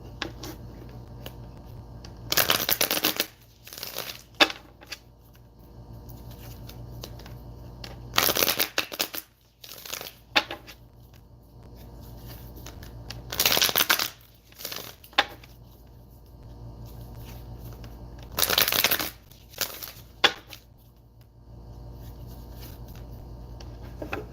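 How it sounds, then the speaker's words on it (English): A deck of playing cards is shuffled at a card party, four sharp riffling bursts spaced several seconds apart, close and fairly loud, with quiet stretches between. "1 more shuffle"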